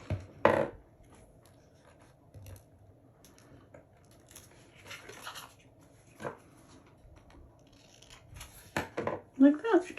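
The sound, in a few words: scissors cutting off extra material on a craft tag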